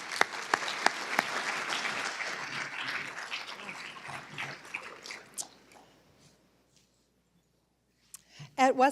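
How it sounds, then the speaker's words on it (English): Applause from the audience at the Sages Over 70 event, a dense run of claps that slowly dies away into near silence over several seconds, then a short burst of other sound right at the end. "Give her a round of applause."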